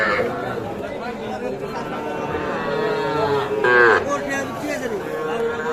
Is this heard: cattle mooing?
yes